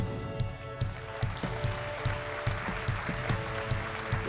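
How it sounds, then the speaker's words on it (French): An audience applauds a court at a mock trial. The clapping falls into a steady, rhythmic beat under sustained tonal sound, moderately loud and without voices. "Mesdames, Messieurs, je vous demande d'applaudir la Cour."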